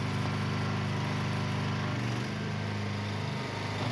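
A gas-powered pressure washer engine runs steadily up close, a continuous low droning hum with a slight shift in pitch partway through.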